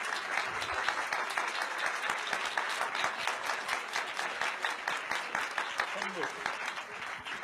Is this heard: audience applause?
yes